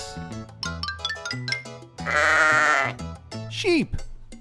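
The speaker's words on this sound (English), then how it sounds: "Sheep." A sheep gives a single wavering bleat lasting about a second, set amid a bouncy musical backing with a short sliding sound effect after it.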